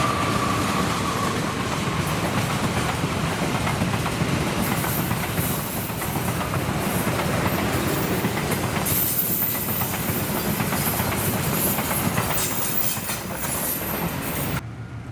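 A mixed executive and economy class passenger train runs steadily on rails in Java, with continuous rumbling wheels, rhythmic clickety-clack over joints and occasional hissing, loud and close throughout.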